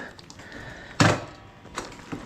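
A door shuts with one loud, close thump, followed by a couple of fainter knocks and rattles in an otherwise quiet space.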